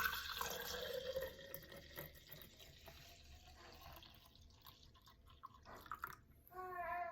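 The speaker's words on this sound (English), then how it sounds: "We're going to pour the milk into it." Raw milk pours into a cup in a steady liquid stream, a soft continuous trickle that shifts in tone as the cup fills, quiet and close.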